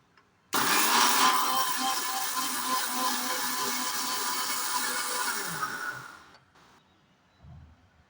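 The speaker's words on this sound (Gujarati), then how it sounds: "હવે આપણે મિક્સરમાં એને ગ્રાઇન્ડ કરી લઈશું." A mixer grinder runs close and loud, whirring steadily for about six seconds while grinding buttermilk masala spices, then cuts off to near silence with a small clunk afterward.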